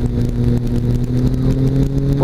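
A flying trike's engine drones steadily at full throttle through a spiral turn, a loud continuous hum with a slight waver in pitch.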